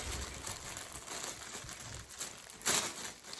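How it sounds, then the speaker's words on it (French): Plastic packaging from a SHEIN clothing haul crinkling softly at close range, a quiet continuous rustle with one louder crunch near the end, and no talking over it. "Je suis désolée pour le bruit, hein. J'essaye d'en faire le moins possible, mais ce genre de plastique là."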